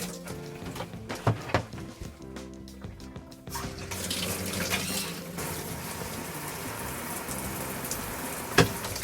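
Hot water gushing from the bathtub faucet of a Jayco 267 BHS bunkhouse camper during winterization, a steady loud rush that starts partway through after some clunks and handling noises, with a sharp knock near the end.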